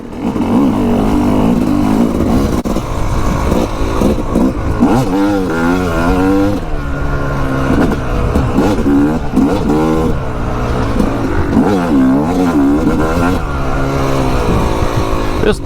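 A Yamaha YZ250 two-stroke dirt bike engine revs up and down continuously and loudly out on trails and single track, with rising and falling pitch sweeps as the rider works the throttle; a voice talks faintly under the engine at times.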